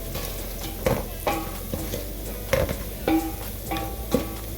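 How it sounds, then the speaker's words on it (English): Pilau with paprika and garlic powder stirred in a pot, a spoon scraping and clinking against the metal in repeated strokes over a constant sizzle, close and clear with no speech. "I'll continue stirring"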